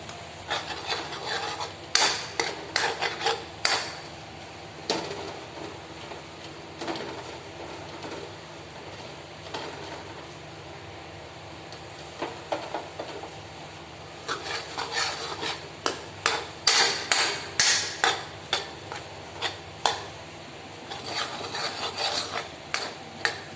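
Potatoes roasting over low heat in a kadhai for potato halwa, with a spoon scraping and clanking against the pan in irregular bursts over a soft sizzle, close and alone without talk.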